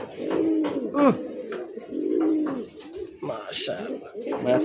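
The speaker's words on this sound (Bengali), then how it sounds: "ডাকতে থাকবে এগুলো ভাই ডাকের কবুতর" Several pigeons, including Rajgolla pigeons, coo in deep, rolling phrases close by, overlapping one another, with a brief higher chirp partway through.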